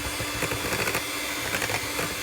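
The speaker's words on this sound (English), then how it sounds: "I'm going to whisk that up to some really quite stiff peaks" Double cream whisked to stiff peaks, a fast, steady rhythmic whirring and rattling of a whisk in a bowl, close and continuous with no voices.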